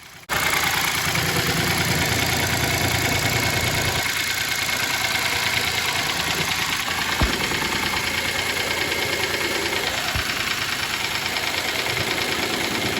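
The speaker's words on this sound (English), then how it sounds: "this is what this engine sounded like when it was still in the car" A Mitsubishi Mirage engine with 450,000 km on it idling in the car, a steady close rumble with a fast ticking knock running through it and no other sounds.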